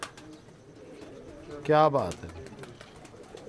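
Pigeons kept by a fancier coo once in a brief, throaty burst, partly under a man's speech and low background noise.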